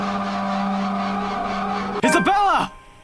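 A brief, sharp whoosh of an arrow whizzing past in the video game The Letter, cutting in suddenly over a steady background hum and gone within about half a second.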